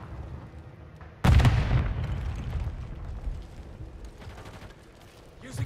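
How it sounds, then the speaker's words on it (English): A sudden loud blast in Call of Duty: Modern Warfare 3 multiplayer, striking sharply after a quieter stretch and then rumbling away over several seconds amid background gunfire. "I killed somebody with an explosion."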